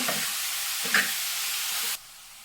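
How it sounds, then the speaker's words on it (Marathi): Broadband sizzling of spinach frying in a hot pan, with a few scraping stirs, cutting off abruptly near the end. "आणि लगेच ढवळून घ्यायची"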